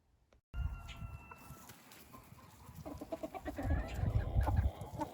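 Silkie chickens cluck repeatedly at close range in a farmyard, the soft calls growing busier and louder toward the end over a low background rumble.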